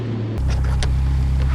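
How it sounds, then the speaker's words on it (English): A Honda Civic VTEC engine revs loudly during a race, starting with a lower hum and jumping abruptly into a sustained, droning high-rev buzz that holds steady to the end. "Here we go, VTEC. Yeah, VTEC, listen to it raw."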